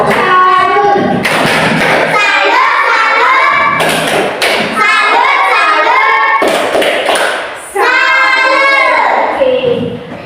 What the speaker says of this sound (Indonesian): Tepuk salut untuk Yona.